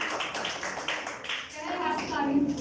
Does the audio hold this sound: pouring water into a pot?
no